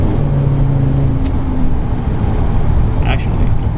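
Ford E350 Econoline van with a 6.8 V10 accelerating up an incline onto a freeway, heard from inside the cab as a loud, steady engine drone and road roar under continuous talking.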